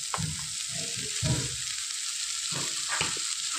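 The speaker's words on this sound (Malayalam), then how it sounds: "ചേർത്ത് കൊടുത്തിട്ട് നന്നായിട്ടൊന്ന് ഇളക്കി യോജിപ്പിക്കുക" Powdered puttu being stirred into an egg mixture in a hot pan for egg puttu, a steady sizzle with a few soft scraping stirs of the spoon, close and moderately loud, no talking.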